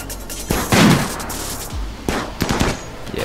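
Assault rifle fire in the video game RimWorld rips out in loud automatic bursts, a heavy volley near the start followed by several shorter sharp bursts, with little else around it.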